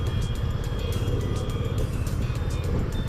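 Steady road traffic on the hill route between Bhimtal and Haldwani, a continuous low rumble of passing cars and engines, fairly close and loud, with no talking.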